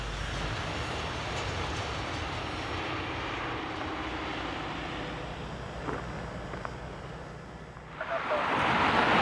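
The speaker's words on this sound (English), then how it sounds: "The long train is slowing down because it is nearing the Selkirk Yard." Long freight train slowing as it nears the Selkirk rail yard, a steady rumbling drone of rolling wagons at a moderate distance, with brief clanks and a louder rushing swell near the end.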